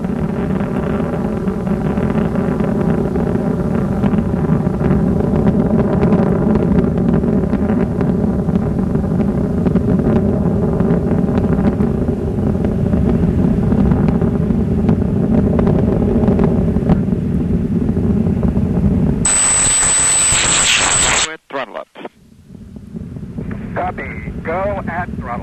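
The three liquid-fueled main engines of Space Shuttle Discovery roar through the STS-105 launch: a loud, steady, broadband rumble that lasts about twenty seconds, then cuts off abruptly, leaving quieter noise.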